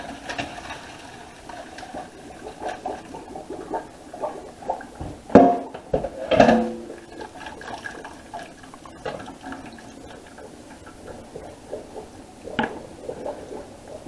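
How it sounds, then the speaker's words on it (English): Water drains off soaked cabbage for Salvadoran curtido, with splashes and pouring bursts in the middle and a softer trickle and gurgle around them. "then we're going to drain the water off"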